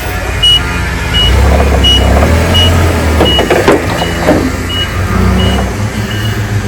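A forklift reverses on a cement pad, its backup alarm beeping in a steady repeating rhythm over a low, rumbling engine close by.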